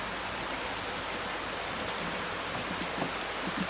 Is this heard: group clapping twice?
no